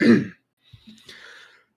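A single short, breathy cough sounds close to the microphone at the start, followed by faint throat noises and quiet breathing.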